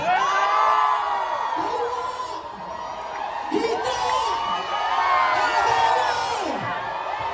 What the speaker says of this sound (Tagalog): Nasaan ba ang sigawan?